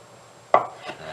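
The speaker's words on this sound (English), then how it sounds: "I'm just going to cut it into thin slices." A single sharp knife chop through a carrot on a cutting board while slicing it thin for a carrot salad, one crisp close impact followed by a fainter second knock.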